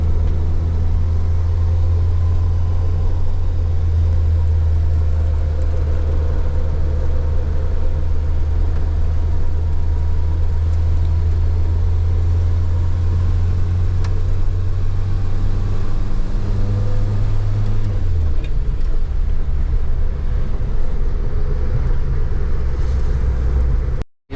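Renault 4L climbing a rainy valley road in Corsica, a steady loud low engine drone and road rumble from inside the car, with the engine note shifting near the end before cutting off.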